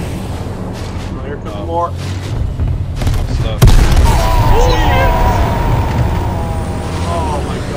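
Airstrike bomb blasts in an H1Z1 battle royale match, one heavy booming explosion landing midway and rumbling on, while a player talks over the game noise before and after.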